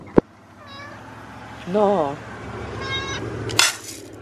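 A house cat meows several times in rising, wavering cries, close and clear, with a person speaking briefly and a sharp clatter at the start.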